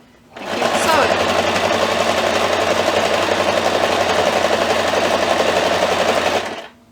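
Domestic sewing machine stitching steadily through layers of fabric and batting, a loud continuous mechanical whir that starts abruptly, runs for several seconds and then stops.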